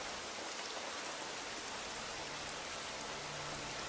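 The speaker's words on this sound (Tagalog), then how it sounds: "Ulan yan." Steady rain falling and pattering on a surface, a continuous dense hiss at even loudness throughout with no voices.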